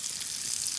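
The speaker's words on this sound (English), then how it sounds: "Just listen to the butter and the juices" Butter and meat juices sizzling on a grilled tomahawk steak, a brief, faint, steady hiss of frying without voices.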